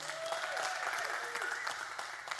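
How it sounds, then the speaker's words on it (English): Audience applause following a student news broadcast segment, a steady wash of clapping with a faint tone sliding underneath. "Give a round of applause for those."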